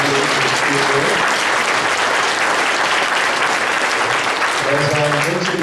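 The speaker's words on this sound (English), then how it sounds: "I'd like a round of applause for all 6 of our candidates" Sustained applause for six election candidates fills the room at a meet-the-candidates event in Stow, dense and even, with a few voices faintly audible beneath the clapping.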